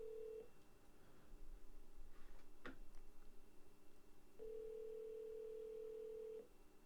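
Outgoing phone call ringback tone: two long steady tones, a short one at the start and a longer one near the end, separated by a quiet gap, heard alone with no talk.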